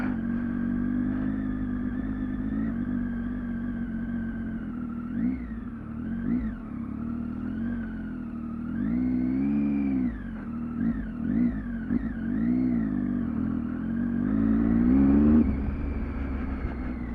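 A Triumph Tiger 800, a heavy 600-pound adventure motorcycle, rides off road through high country. Its engine drones steadily and close, rising and falling in pitch with throttle changes and a stronger rev near the end.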